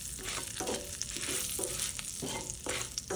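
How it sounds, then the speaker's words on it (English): Urad dal and broken red chilies sizzle and crackle in hot oil for a tadka, a loud, close continuous frying hiss with periodic scraping stir strokes. "And I'm going to add the broken red chilies, the 2 red chilies that I had taken."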